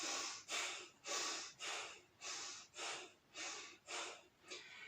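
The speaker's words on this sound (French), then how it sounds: "Donc respiration de feu, je vous rappelle, c'est le ventre." Breath of fire, the rapid belly breathing of kundalini yoga: about nine forceful nasal exhalations in a steady rhythm, each a sharp snort-like puff with a quick intake between, close and alone.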